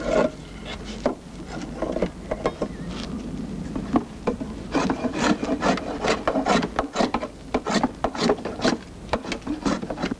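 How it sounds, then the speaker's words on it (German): A cooper draws a drawknife over rough oak wood for a wine vessel, making repeated rasping, scraping strokes in an irregular rhythm, close and fairly loud, with no talk. "glättet der Küfer mit dem Ziehmesser die raufaserigen Flächen"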